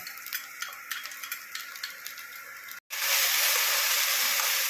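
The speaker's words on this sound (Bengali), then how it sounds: "এই রসুন কুচিটা আমি এই গরম তেলের মধ্যে দিয়ে দিলাম" Chopped garlic drops into hot mustard oil and erupts into a loud, bright, continuous sizzle right after a brief silence, replacing the lighter ticking and crackle of the heated oil just before.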